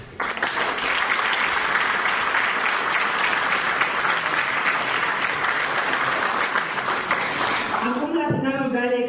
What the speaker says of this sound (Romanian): vă invităm să aplaudați încă o dată pe laureații galei cercetătorii de excelență a Universității din Craiova